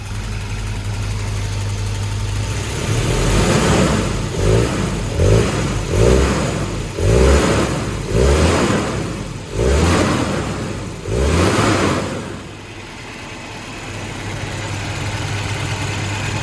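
A rebuilt Volvo redblock engine runs after an overhaul and timing adjustment, settling into a steady idle punctuated by about eight sharp throttle blips that rev up and fall back, close by with no talking.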